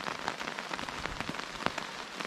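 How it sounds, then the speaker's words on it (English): Rain patters on a camping shelter's roof in a forest, a dense steady hiss of drops with a few sharper individual hits, heard close with no talk. "It looks like the roof's doing its job, keeping the rain off us."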